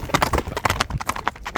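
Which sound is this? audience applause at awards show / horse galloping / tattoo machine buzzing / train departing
horse galloping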